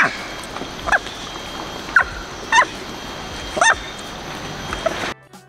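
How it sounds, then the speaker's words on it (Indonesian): In the film Merah Putih One For All, a bird-chirp sound effect turns into monkey calls: short squeaky yips and chirps recur about once a second over faint background hiss, then cut off abruptly. "Tapi di tengah-tengah, suara burungnya berubah jadi suara monyet dong."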